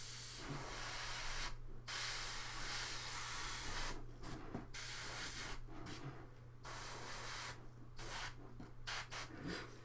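Airbrush spraying paint onto Warcry miniatures, a soft close hiss in repeated bursts separated by brief pauses, over a low steady hum.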